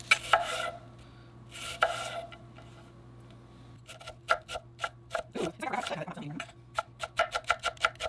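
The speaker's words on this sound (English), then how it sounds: "Okay, I've got my onions cut, put those to the side" A knife chops through a whole onion on a board for a pickled-onion topping with lime juice, quick sharp taps building into a rapid irregular rhythm in the second half, close and crisp.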